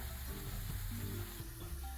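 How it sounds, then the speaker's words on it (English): Steady, dense sizzling and crackling of falafel patties frying in a scorching hot pan, close up and continuous, with no talking. "They are now in the scorching hot pan. You hear that nice sizzle."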